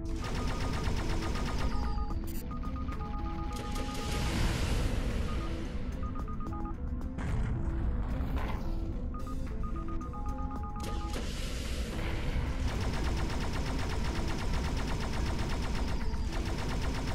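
Rapid gunfire in the VR shooter End Space played on a Vive, continuous loud bursts of shots repeating for the whole stretch with brief lulls midway, and no talk over it.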